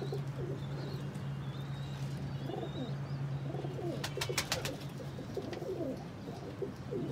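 A pair of slate pigeons, a male and a female, coo softly in repeated low throaty phrases, joined by a few sharp chirps from other birds over a steady low hum.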